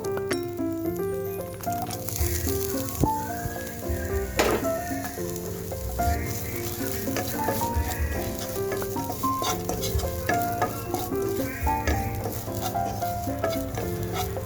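Cashews and raisins sizzle in a pan with a steady, close crackling hiss, while background music plays throughout.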